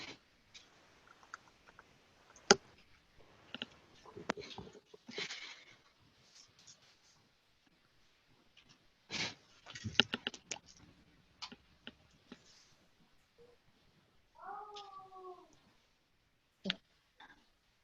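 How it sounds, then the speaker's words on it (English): Sparse, irregular computer-keyboard clicks come from a remote system design session, faint and scattered across the span with short pauses, and a brief voice-like sound appears near the end. "Are you typing or shall I type?"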